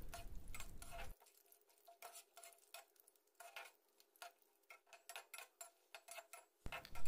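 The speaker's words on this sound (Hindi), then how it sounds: "घी पिघल जाने पर काजू और बादाम के टुकड़ों को इसमें डाल देंगे तथा इनको लो फ्लेम में करीब 2-3 मिनट तक रोस्ट करेंगे" Cashew and almond pieces roast in melted ghee over a low flame, stirred with a spoon that gives quiet, rhythmic clicks and scrapes above a faint crackle.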